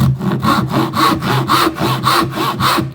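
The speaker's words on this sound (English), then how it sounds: "cut your shoulder cut. Pull your saw back a couple of times to get your kerf." A hand saw cuts the shoulder of a corner halving joint in wood, with about seven or eight loud, close, evenly paced rasping strokes and no talk.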